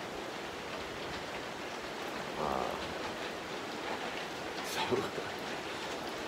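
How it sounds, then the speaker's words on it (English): Rain falling outdoors near a hunting stand in South Georgia, a steady soft hiss of drops with a few louder patters, and a voice talks quietly over it. "it's starting to rain right here."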